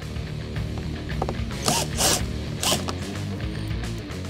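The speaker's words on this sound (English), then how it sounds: "Next, remove the seven screws to hold the lower fascia to the body." Screws being backed out of the lower bumper fascia on a 2013-2018 Ford Focus ST, giving a few short whirring driver bursts over a steady background hum, close by with no talking.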